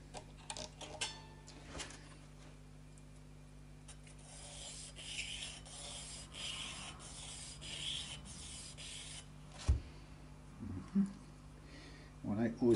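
Trimming and rounding off the edges of a guitar nut on a Fret King Country Squire during a setup, a soft rhythmic rubbing and filing scrape in repeated strokes, close up, with brief speech and a few knocks.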